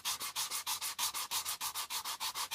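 Steady rhythmic scratching of sandpaper rubbed back and forth by hand with the grain over a wooden bowl, about five strokes per second, close and even, with no talking.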